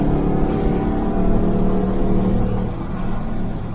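A 1968 Chevelle Nomad's engine roars with its side pipes opened, a loud, steady, deep exhaust rumble held close up with a slight swell midway.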